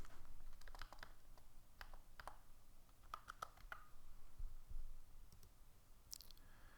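Close, quiet typing on a computer keyboard: irregular bursts of light key clicks with short pauses between them, and no speech.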